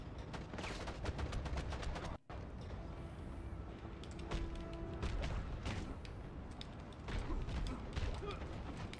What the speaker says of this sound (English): Oh, I'm being shot from over here.